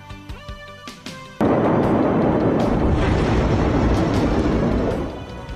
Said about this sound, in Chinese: 黎巴嫩首都贝鲁特港口区仓库爆炸